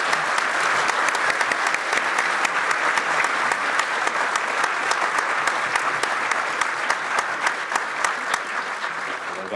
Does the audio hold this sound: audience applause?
yes